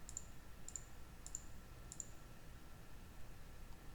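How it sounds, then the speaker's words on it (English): Four crisp computer mouse clicks land on a slide navigation button at roughly even half-second intervals, each click doubled, quiet and close over a faint room hiss with no talk. "Now I'm going to click the right gray slide button"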